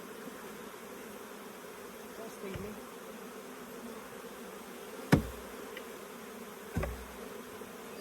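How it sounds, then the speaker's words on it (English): A steady, low hum of many honeybees buzzing close by, broken by two dull thumps as a box is knocked and emptied; a voice briefly speaks. "now is a full box of bees here. So we just got to dump them in here."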